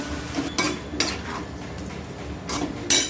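Tomato puree being sautéed and stirred in a pan for egg biryani, with a spoon scraping and clinking against the metal in bursts over a steady background hiss.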